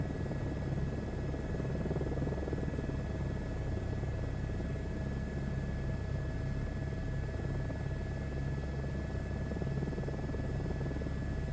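Steady Airbus H125 helicopter rotor drone in Microsoft Flight Simulator 2024, with a constant engine whine, loud and unchanging throughout, with no voices.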